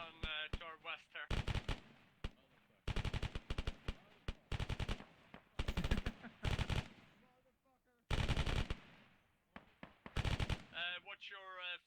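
Repeated short machine gun bursts firing during a military field training exercise, sharp rapid volleys separated by brief pauses, loud and close, with radio-style voices talking between bursts.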